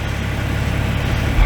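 A 2020 Chevy Silverado 1500 LTZ Z71 with a 3.0L I6 Duramax diesel and dual exhaust outlets idles nearby, giving a steady low rumble with slight vibration and no talking.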